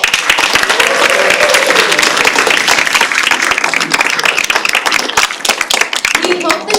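Dense audience applause fills a student communications studies showcase, a loud, steady wash of many hands clapping at once without letup.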